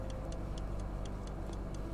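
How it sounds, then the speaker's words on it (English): A clock ticks steadily in a video game, about eight even ticks at a moderate, clear level with no talking over it. "Why do I hear ticking?"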